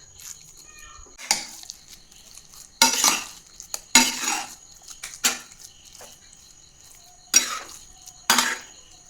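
Brown rice is heated in a metal pan, with a spoon scraping and clattering in several separate bursts between quiet pauses, close and fairly crisp.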